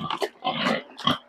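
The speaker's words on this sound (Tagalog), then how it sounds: "Malakas ang baboy" A young fattening pig at the starter stage feeds fast and noisily at close range, giving three loud bursts of chomping and snuffling grunts over about a second.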